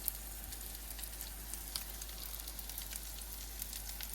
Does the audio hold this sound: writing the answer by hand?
no